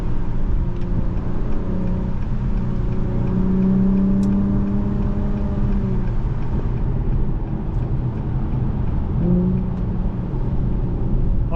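A 2023 Acura TLX Type S accelerates onto a highway, its engine note rising steadily in a loud, continuous drone heard from inside the cabin, easing briefly before pulling again.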